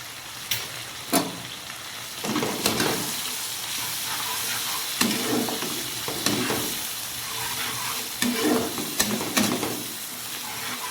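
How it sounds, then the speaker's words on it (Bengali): Vegetables coated in salt, turmeric, ginger paste and chilli powder fry for a rainy-day khichuri, a constant close hiss of oil broken by regular scraping bursts as a spatula stirs the pan. "ভালো করে ভেজে নিচ্ছি"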